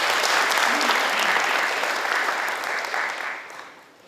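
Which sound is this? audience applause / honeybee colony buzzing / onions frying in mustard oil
audience applause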